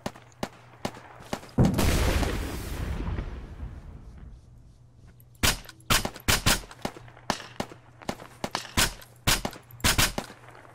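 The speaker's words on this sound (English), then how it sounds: "I'm throwing a frag up there." A frag grenade blast in ARMA 3 gives a loud, booming burst that rumbles for about a second, then a string of sharp, close gunshots crack in irregular bursts.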